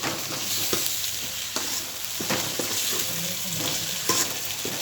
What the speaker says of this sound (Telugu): మంచిగా మిక్స్ చేసుకోవాలి. ఒక 2 మినిట్స్ 3 మినిట్స్ మిక్స్ చేసుకోవాలి